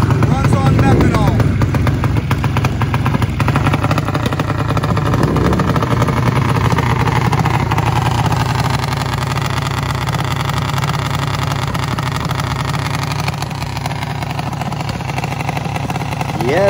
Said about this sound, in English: This mini bike runs on methanol.